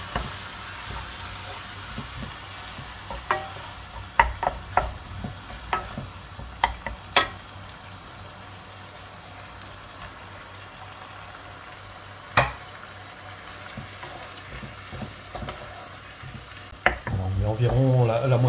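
Minced meat and crushed tomatoes are stirred in a hot pan. A low, continuous sizzle is broken by scattered sharp clacks of a utensil against the pan, close up and without talk.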